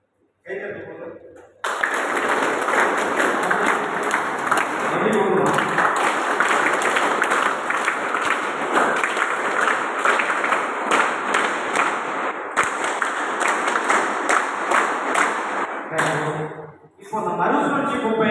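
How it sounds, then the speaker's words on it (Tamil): An audience at an environmental awareness event at a government polytechnic college claps loudly and steadily for several seconds, with a brief break, a dip, and another short burst at the end. "கைத்தட்டு கொடுத்துருமா, கைத்தட்டு கொடுத்து"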